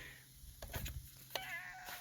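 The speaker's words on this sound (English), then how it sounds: "And there's a cat." A cat meows a few times near a 2001 Ford F250 with a V10, the short cries coming through faintly over a steady background hum.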